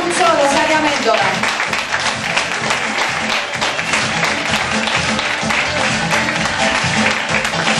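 An audience applauds at a Miss Food&Girls beauty pageant, giving dense sustained clapping that stays loud throughout while a voice talks over it.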